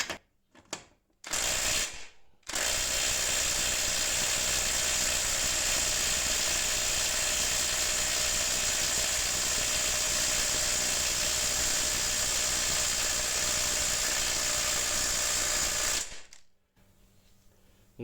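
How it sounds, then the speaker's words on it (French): Parkside Performance impact wrench running steadily for about fourteen seconds as it tries to unscrew a bolt, a loud continuous mechanical whir and rattle that starts and stops abruptly after a few short bursts at the start. "On va essayer avec la performance, voir si elle peut le faire."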